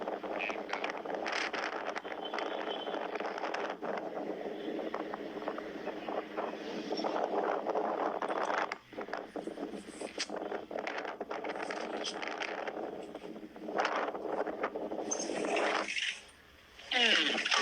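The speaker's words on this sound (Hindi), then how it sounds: "एक्चुअली बहुत ज्यादा हवा चलती है" Strong wind roars steadily at an outdoor viewpoint, buffeting the microphone with loud, continuous broadband rushing that briefly drops out twice before surging back.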